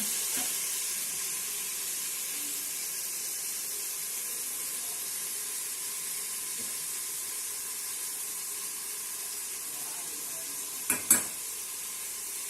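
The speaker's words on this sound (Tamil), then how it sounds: "ஸோ நல்லா வதக்கிட்டுருக்கோம் பாருங்கள்." Chicken biryani ingredients sautéing in a pan, a steady faint hiss of frying throughout, with a brief sharp clatter of stirring near the end.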